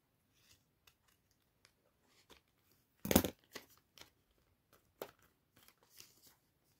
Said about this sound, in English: Now I'm gonna cut off these extras.